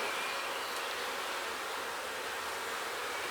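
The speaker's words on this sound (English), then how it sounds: "there is plenty of bees to keep this brood warm up here" Honey bees in an open hive colony, packed over the brood frames, give off a dense, even, continuous buzz that stays close and fairly quiet with no voices.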